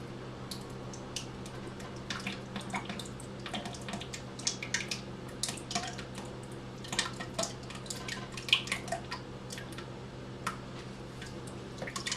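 Whey drips from homemade yogurt through cheesecloth as a steady patter of small, irregular drops over a faint background hiss, with no talking.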